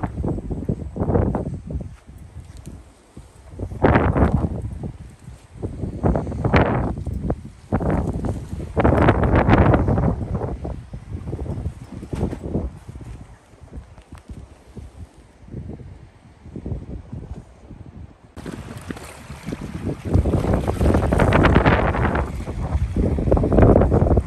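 Strong gusty wind outdoors on a falls and lookout trip near the sea, buffeting the microphone in loud, irregular roaring bursts for the whole stretch, with no talking.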